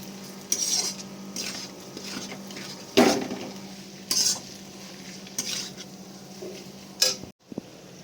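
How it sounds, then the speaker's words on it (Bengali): Goat meat trimmings and fat being stir-fried in a pan: a metal spatula scrapes and clinks against the pan in intermittent strokes over a faint, low sizzle, fairly quiet and close. "ভালো করে এটা আমাদের কষাতে হবে তেল না ছাড়া একটু এটাকে ভালো করে কষিয়ে যেতে হবে"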